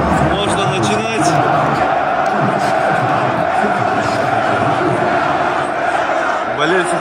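Werder Bremen fans in a packed football stadium at a Bundesliga match against FC Augsburg, a loud, continuous roar of massed chanting and cheering from the crowd.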